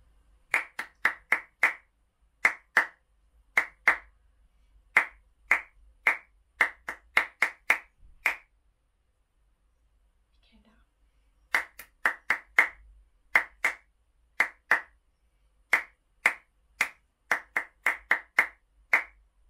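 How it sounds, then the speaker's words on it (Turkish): Hand clapping in short rhythmic groups, sharp crisp claps forming repeated patterns, a brief pause midway before the next sequence begins, close and clear with no talking. "Tartım tekrarı kısmına alkışla yapacağım"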